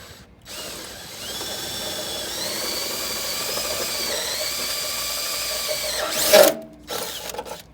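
A power drill with a 3/8 bit bores into the fender of a Jeep Wrangler JKU, a steady loud whine for several seconds that rises briefly near the end, then stops.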